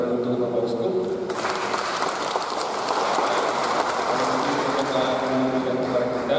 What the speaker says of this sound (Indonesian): kasih tepuk tangan untuk Bapak Uskup